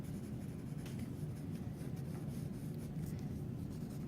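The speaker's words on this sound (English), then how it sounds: "Take that ebony pencil just to pull those shadows out." An ebony pencil shades a drawing on paper, giving a soft, continuous scratchy rubbing of back-and-forth strokes, close and quiet.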